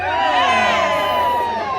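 A crowd of visitors at the Tower of London cheers loudly with raised hands, a dense burst of overlapping shouts and whoops that holds steady for about two seconds.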